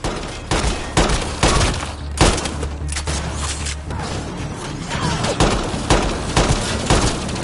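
Video-game gunfire from Mass Effect Andromeda crackles in rapid, repeated bursts during a firefight, loud and close, with heavy thumping shots punctuating the volleys.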